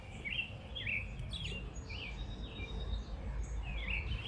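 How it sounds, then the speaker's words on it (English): Small birds chirp outdoors in a neighborhood in the morning, with short, bright tweets repeating irregularly over steady background noise and no talking. "A bird."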